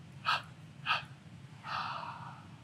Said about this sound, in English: 3 exhales from that point.